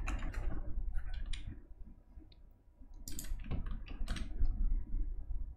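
Quick bursts of key clicks on a Bluetooth computer keyboard, close and fairly loud, with a short pause midway before the typing resumes.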